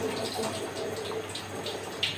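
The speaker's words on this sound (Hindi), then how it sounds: "अब इसमें जो इजाफी पानी है वो मैं फेंक दूँगी।" Excess water poured off soaked rice while making beef yakhni pulao, a steady running splash and trickle lasting throughout with no talk.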